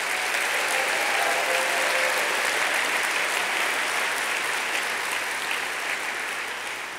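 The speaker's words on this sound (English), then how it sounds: "Let's give our teachers a round of applause." An audience at the 2015 Long Beach State of the City address applauds the teachers, a dense, sustained wash of clapping from a large crowd that holds steady and slowly tapers off near the end.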